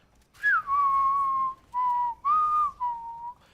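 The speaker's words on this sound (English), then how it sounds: "Hopefully that came through the mic as well as I did whistle it." A person whistles a short tune, four or five clear sustained notes with small pitch slides, close and alone over a quiet background.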